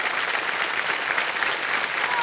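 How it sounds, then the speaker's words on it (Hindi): Studio audience at a Baisakhi special episode of the game show Wheel of Fortune breaks into steady, dense applause throughout, with no pause. "ठोको ताली।"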